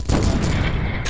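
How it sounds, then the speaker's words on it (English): Weapons fire in a large ship battle in the Space Engineers game comes as a dense, loud burst of rapid shots and booms, packed together over about a second. "No, you're shooting me!"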